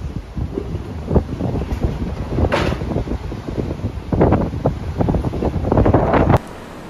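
Strong wind buffets a beach on Koh Phangan, Thailand, during a cyclone, a continuous loud roar across the microphone with rising gusts and surf-like surges, then dropping abruptly near the end.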